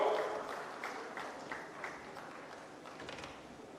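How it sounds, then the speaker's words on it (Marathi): A crowd applauds Nitin Gadkari at a village gathering. The clapping is faint and distant, a steady patter of many hands for several seconds. "पुन्हा एकदा जोरात नितीनजीसाठी जोरात टाळ्या वाजवून"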